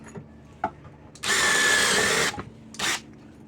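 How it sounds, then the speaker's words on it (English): A power drill bores holes through epoxy resin handle scales for a goat-headed warhammer. It gives one loud, sustained whine of about a second, a short pause, then a second brief burst, with no talking. "Then I just take my drill"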